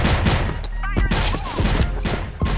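Rapid gunfire from an online shooter game crackles in dense bursts and sharp cracks, loud and continuous across the clip, with a few brief impacts mixed in.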